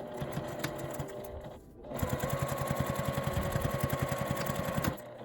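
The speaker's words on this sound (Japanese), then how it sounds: "返し口のところは内側に折り込んで端ミシンで縫い閉じます。" A sewing machine edge-stitches a fabric zipper pouch closed, a fast steady needle rattle running loud and close after a brief pause, then stopping.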